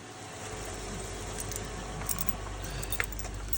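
A bunch of keys jangles and clinks near a car on a snowy cold morning, with a low steady rumble underneath.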